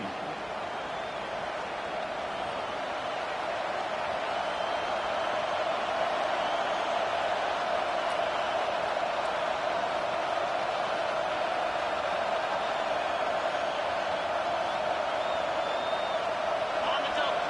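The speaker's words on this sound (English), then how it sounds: "Decibels rising as the crowd gets behind this defense on third down" Steady stadium crowd roar during a college football video game matchup between Mississippi State and BYU, a dense continuous wash of cheering that swells slightly over time, with a commentator talking over it.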